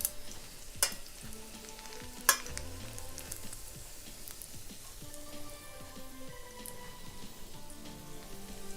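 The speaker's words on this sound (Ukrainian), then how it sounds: "І все до гарної золотистої скоринки треба обсмажити." Soft sizzling and crackling of Monte Cristo sandwiches frying in a pan to a golden crust, with occasional sharp pops and light clinks, fairly quiet.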